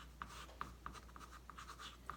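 A pen scratches out a web address in quick, quiet strokes, a handful of short taps and scribbles close to the microphone in an otherwise hushed room.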